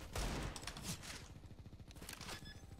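Rapid video game gunfire crackles in quick bursts, a dense run of sharp shots with a few louder blasts up front, heard at low volume.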